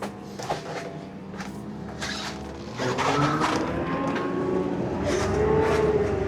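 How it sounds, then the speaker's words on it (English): A service bus in Oxford rumbles along with rising engine drone as it pulls away and gathers speed, interior rattles and clunks scattered over the steady hum. "Finally, I'm on a bus."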